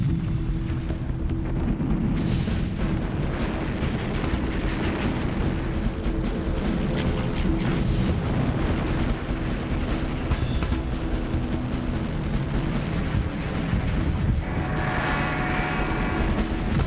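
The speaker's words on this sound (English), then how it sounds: "There's now an effective anti-aircraft barrage, and some US fighter pilots have even managed to get into the air." A dense, continuous rumble of anti-aircraft barrage fire during the Pearl Harbor attack, with booms and bursts merging into a loud, unbroken roar throughout.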